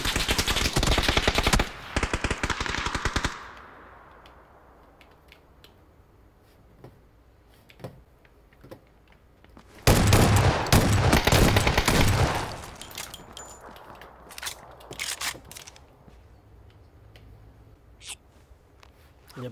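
Automatic gunfire in PUBG, two loud sustained bursts separated by quieter stretches of scattered single shots and clicks, with no talk.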